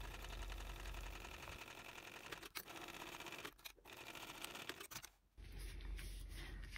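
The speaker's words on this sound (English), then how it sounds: "I'm just going to top stitch through this with an 1/8 inch seam" A sewing machine top stitches a handmade bag with a 1/8 inch seam, running as a steady close mechanical whir with a fast rhythmic pulse that breaks off briefly a few times before starting again.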